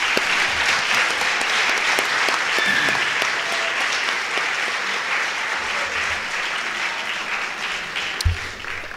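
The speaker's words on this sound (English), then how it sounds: "Everybody, please join me in a round of applause to show our appreciation." Loud, sustained applause from a crowd at a school honors convocation, a dense uniform roar of clapping that stays steady throughout with a single thump near the end.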